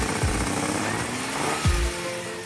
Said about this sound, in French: le moteur chante bien